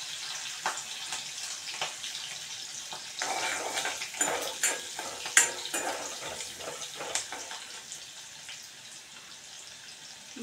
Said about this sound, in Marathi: मस्त असं थोडं फ्राय होऊ दे।